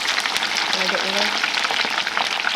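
Tater tots frying in a batch in a pan, a steady dense sizzle with crackling oil pops running throughout, close and fairly loud, with no talk over it.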